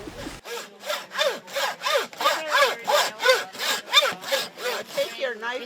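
Moose meat and bone sawn at an Alaska moose camp in a steady run of about a dozen rhythmic back-and-forth strokes, close and fairly loud, with no voices.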